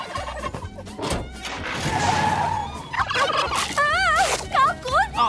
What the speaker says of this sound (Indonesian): Kalkun!